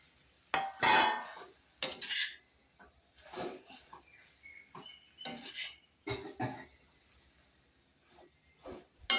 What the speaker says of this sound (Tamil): இப்போ உதிரியாக இருக்கிற இந்த இடியாப்பத்தை போட்டு அதில் கிண்ட போகிறோம்